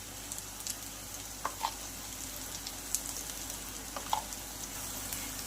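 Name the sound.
frying spices and oil for egg curry masala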